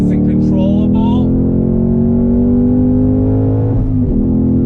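A 2021 Ford Mustang Mach 1 V8 muscle car drones loudly from up close with a deep, steady engine tone under acceleration, and a voice briefly calls out at the start.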